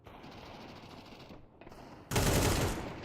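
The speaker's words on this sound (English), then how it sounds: "Bullets rattling off." Rapid gunfire with bullets rattling during a competitive shooter esports match, a steady burst of shots that swells louder and denser toward the end.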